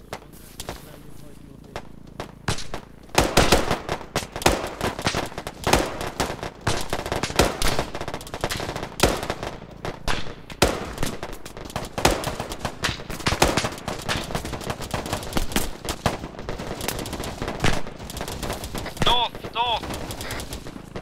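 Gunfire in an ArmA 3 cooperative firefight: rapid, loud bursts of automatic rifle and machine-gun fire crack repeatedly, some near and some farther off, with brief gaps between volleys and a few tonal radio blips near the end.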